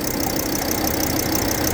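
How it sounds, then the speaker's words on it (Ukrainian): The 2.5-litre diesel engine of a 2011 Volkswagen Crafter with an insulated box body idles steadily, a close, even mechanical rumble with a light ticking knock and no talk. "Заведений двигун"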